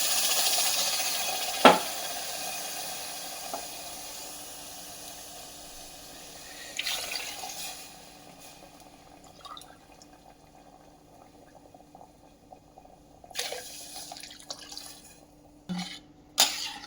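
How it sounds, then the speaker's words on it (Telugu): Water poured into a cooker for rice rava upma, a few splashing pours and gurgles between quieter stretches, with occasional clinks of pots near the end. "2 గ్లాసులు రవ్వ తీసుకున్నాను కదండి, ఇది 4 గ్లాసులు నీళ్ళు వేస్తున్నాను"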